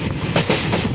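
The Nagaland Express pulls out of Badulipar station with a steady, close rumble of wheels and carriages rolling on the rails.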